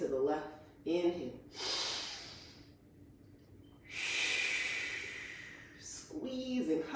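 Deep inhales and exhales during a yoga class twist sequence, several slow audible breaths close to the microphone, with an instructor's voice speaking between them.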